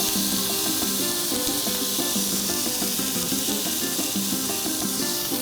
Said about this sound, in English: And we're just gonna saute this until it's translucent.